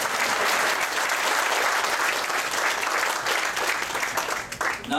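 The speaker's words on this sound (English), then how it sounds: "So let's give our families a big round of applause." Sustained, dense applause from an audience at an evening recognition ceremony honouring families, loud and steady throughout before fading near the end.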